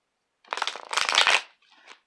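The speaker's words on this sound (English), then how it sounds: "I'm just going to shuffle a couple times" Tarot cards are shuffled up close in a quick riffling burst, followed by a softer, shorter shuffle.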